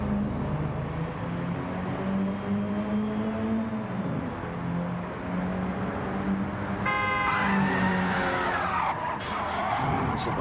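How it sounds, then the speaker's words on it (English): Before the race, a mini RC race car spins its tyres in a burnout at an indoor speedway, with a high whining motor drone and a sharp tyre-squeal burst near the end, and no talk. "He's trying to burn a set of tyres out before the race starts."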